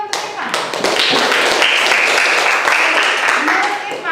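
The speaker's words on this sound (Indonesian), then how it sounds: "tepuk tangan dulu untuk Irfan" A classroom of students claps together for a classmate after his answer during a teacher's lesson, a dense, steady burst of hand clapping lasting several seconds before fading.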